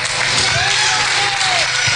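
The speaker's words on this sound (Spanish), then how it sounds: "Dale un aplauso fuerte al Señor." A church congregation breaks into loud, dense applause, a continuous wash of clapping filling the room.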